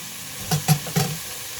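Garlic sizzles in a pot of cabbage soup with a soft steady hiss, punctuated by three quick stirring scrapes close by.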